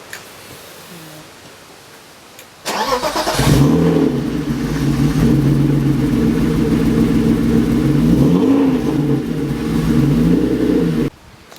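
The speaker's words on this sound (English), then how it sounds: "we're going to turn the car on." A BMW E36 engine, just fitted with a new fuel pump, catches abruptly after a quiet moment and settles into a loud, steady idle that runs for several seconds, then cuts off sharply.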